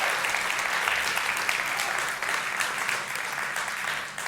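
A church congregation applauds with steady, dense clapping that holds at an even level for several seconds.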